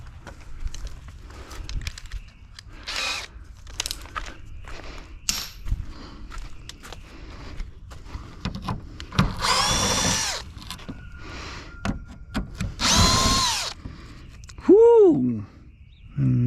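A power drill works screws on new food trailer equipment in short, loud, close whirring bursts separated by pauses, clicks and rattles. A falling whine comes near the end.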